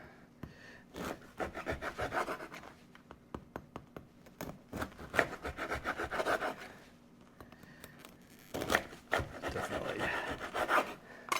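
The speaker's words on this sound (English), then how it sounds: "I'm going to start slicing my bread" A knife saws through crusty bread to cut thick slices, giving a close, dry, crackly rasping in uneven strokes with brief pauses between them.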